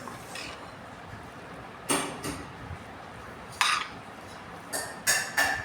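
A spoon mixes mango kasundi ingredients in a bowl, with quiet scraping between several sharp clinks and knocks of metal on the bowl, some in quick pairs near the end.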